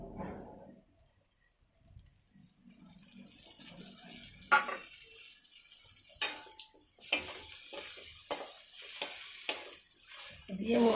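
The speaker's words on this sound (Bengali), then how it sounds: "মশলাটাকে আবারও ভালো করে কষিয়ে নেব" Ground spices such as coriander, cumin, mustard, chili and turmeric fry in oil for a bitter gourd curry, with intermittent sizzling bursts and scraping stirs against the pan amid quieter gaps.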